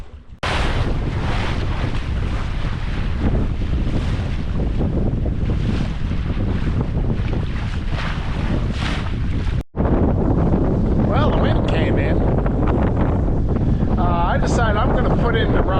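A sailboat under sail moves slowly in light conditions, with loud, constant wind buffeting the microphone and rushing water against the hull; after a brief cut the rush continues with faint sounds mixed in.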